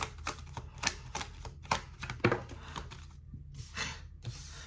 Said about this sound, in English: Just give me a minute to pull some cards here